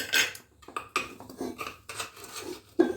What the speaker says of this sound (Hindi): चम्मच की हेल्प से अच्छे से थोड़ी थोड़ी करके डालते रहेंगे चम्मच से